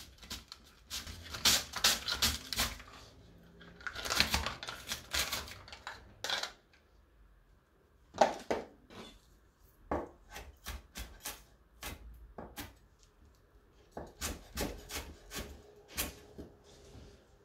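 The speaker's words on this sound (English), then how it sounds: "using the nicer slicer, we'll quickly slice the onion within 10 to 15 seconds" An onion sliced on a Nicer Slicer in a home kitchen, heard as bursts of quick, close tapping and scraping strokes in rapid clusters, separated by short quiet pauses.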